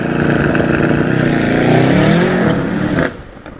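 Mercedes E63 AMG-S with 603 horsepower revving loudly and close, its engine note rising and falling in a sustained roar before cutting off abruptly near the end.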